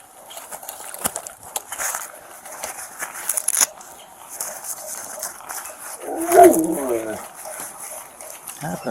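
A dog whimpers and whines briefly, close by, amid background voices and outdoor noise.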